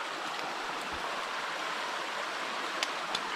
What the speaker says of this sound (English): We got to cross this creek